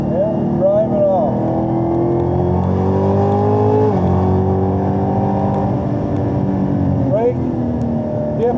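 A car accelerates out of a corner on a race track, engine note rising in steady pitched sweeps and holding loud and close throughout, with a brief gear change midway and a voice heard faintly over the drone.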